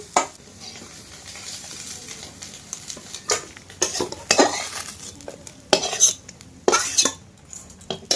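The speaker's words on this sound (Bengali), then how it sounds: "সব মাছ বন্ধুরা ভাজা হয়ে গেছে" Sundarbans river fish fry in oil in a pan over an outdoor cooking fire, with a steady sizzle broken by repeated metallic scrapes and clinks of a spatula as the pieces are stirred and turned.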